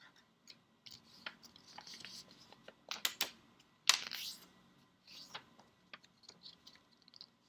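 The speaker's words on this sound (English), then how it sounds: "you're going to fold the paper so it looks like a triangle." Square origami paper is folded into a triangle, giving soft, scattered crinkles and sharper creasing clicks at an irregular pace, close and quiet.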